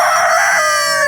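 A ranch rooster among caramel-feathered chickens crows loudly and close, one sustained cock-a-doodle-doo filling the short stretch with no talk over it.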